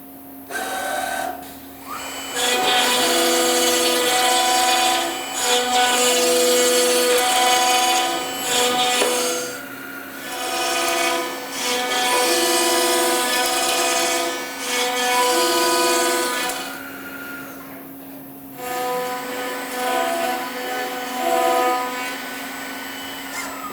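A Commander 3 door machine runs its machining sequence on a clamped door, giving a loud sustained mechanical whine with steady tonal hum, broken by brief pauses and shifts in pitch as the cutting passes change.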